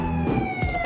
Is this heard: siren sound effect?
yes